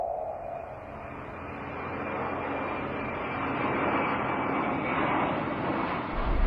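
Airplane engine roar, a steady broad drone that swells slightly, heard alone without talk, as a plane flies toward Lombok.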